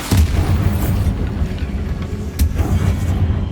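Bombarda spell explosion in Hogwarts Legacy: a loud deep boom followed by heavy rumbling, with a second blast hitting midway through the low, thundering roar.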